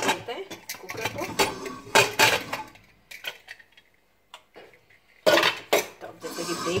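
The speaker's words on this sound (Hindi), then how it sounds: "तो हमारा जो ये प्रेशर आप देख सकते हैं ये रिलीज हो चुका है तो हम खोलते हैं कुकर को।" A pressure cooker lid opened after cooking toor dal, with metallic clanks and scraping of the lid and pot close by, between stretches of a person speaking.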